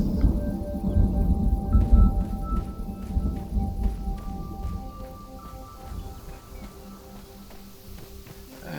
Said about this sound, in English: I think there might be a storm coming.